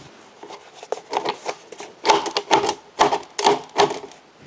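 Vinyl rain gutters at a cottage being cut to length with a hand tool, giving a run of rhythmic rasping, scraping strokes in close bursts that grow louder and denser in the second half, with no talking.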